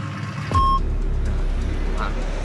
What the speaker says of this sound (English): the loud truck, yeah